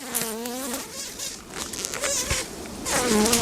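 Honey bees buzz loudly and steadily from a hive holding several frames of bees, with a dense, close drone that swells and dips throughout.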